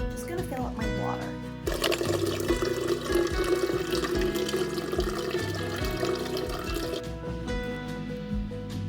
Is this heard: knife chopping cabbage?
no